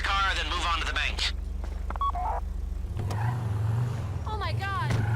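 A car engine in GTA Online hums low and steady under in-game dialogue, dropping slightly in pitch partway through as the vehicle drives, with voices speaking throughout.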